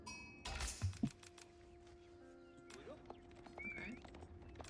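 Horses clip-clop and neigh in a strategy video game amid spears and archers, mixed with faint keyboard clicks and a soft voice; the sounds are quiet and scattered.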